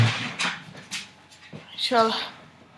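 A dog indoors whimpers briefly and pants softly near a voice at home, with a short high whine standing out near the end.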